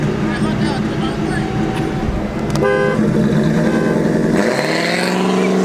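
A car horn honks in a short burst on a street before a race between a 2015 Dodge Challenger and a 2007 Ford Crown Victoria, sounding over loud idling and revving engines, after which an engine roars away as people talk nearby.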